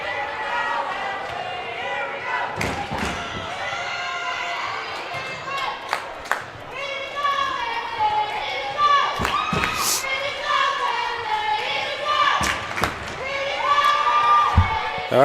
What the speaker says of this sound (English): you can hear the fans cheering today